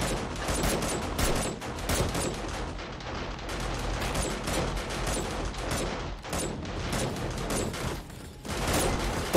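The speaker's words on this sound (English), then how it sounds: "something exploded at the entrance" Rapid, dense blasts and crackling bursts from exploding bomber zombies and defensive gunfire at a blood moon bunker entrance in 7 Days to Die, loud and nearly continuous with brief dips.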